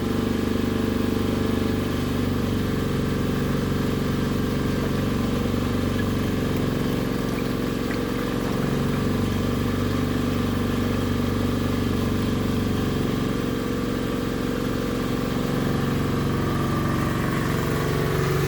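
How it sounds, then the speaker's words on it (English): A loud generator running during a brown out, a steady close engine drone with a deep low rumble that holds constant throughout without any voices. "I want to get away from the loud generator"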